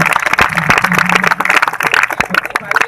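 An audience at a fashion catwalk show at an educational foundation in Sundargarh, Odisha, claps in a loud, dense burst of applause that lasts throughout, with voices and crowd noise mixed in.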